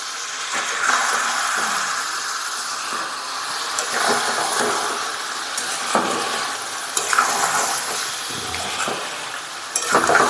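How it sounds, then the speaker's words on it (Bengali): Spiced chicken meat being stirred in a hot pan, giving a dense, continuous sizzle with repeated scraping strokes, fairly loud and close throughout. "তো বন্ধুরা এবার মাংসটা কিন্তু মশলাগুলো দেওয়ার পর একটু ভালো করে নেড়ে নেবো।"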